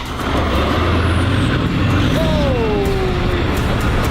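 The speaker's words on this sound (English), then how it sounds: "All right, let's start the tank." A German Leopard tank's engine starts up in a loud, steady, close rumble, with a rising mechanical whine gliding over the heavy low drone.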